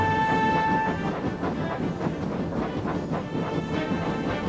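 Toy engines hauling an express up a steep hill, a steady dense rumble of rolling wheels and clattering cars with a sustained whistle-like tone early on, loud and continuous throughout.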